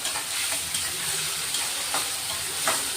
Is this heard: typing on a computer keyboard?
no